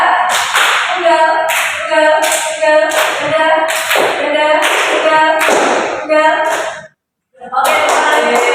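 A small group of children in an Indonesian classroom claps a rhythmic single-clap pattern, with quick repeated claps over loud chanting voices. The clapping stops briefly near the end, then resumes.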